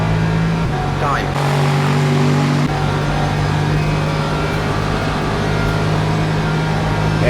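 The engine of the number 87 Lexus GT3 race car in Le Mans Ultimate drones loud and steady throughout, with a shift in pitch early on, while a voice talks over it.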